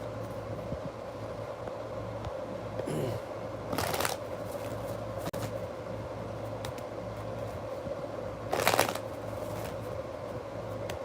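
Tarot cards being shuffled under a steady low background hum, with two brief louder riffling bursts standing out near the start and again later in the stretch.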